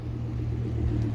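A Porsche GTS engine at a car meet gives a deep, steady rumble, close and fairly loud, with no talking.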